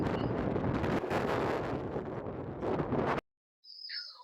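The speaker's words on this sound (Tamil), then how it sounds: "அதனால தான் இங்கே நல்லா காற்றடிக்குது" Loud, steady wind buffeting the microphone on an open hilltop with a broad roar, then a sudden cutoff into near silence before a faint chirp.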